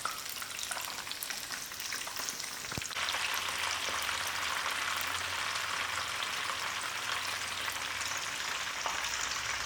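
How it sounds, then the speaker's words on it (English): Chicken strips frying in hot oil, a dense crackling sizzle close up and continuous, with one sharper clack early on and no talking. "the oil must be quite hot, and you can fry it"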